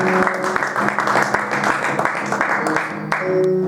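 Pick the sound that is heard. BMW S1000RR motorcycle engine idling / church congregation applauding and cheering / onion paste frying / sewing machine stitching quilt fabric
church congregation applauding and cheering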